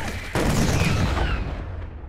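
Units in the StarCraft II video game open fire on SCV workers: a loud, dense burst of gunfire starts abruptly after a brief quiet moment and rattles on steadily, easing off slightly toward the end.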